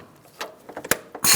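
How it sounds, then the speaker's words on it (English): A 17mm ratchet snugging up engine mount bolts on a 2012-2017 Hyundai Accent 1.6L L4: a few sparse, irregular clicks and clanks, close and fairly loud, ending in a brief burst of louder metallic noise. "using my 17mm, I'm going to snug up these three"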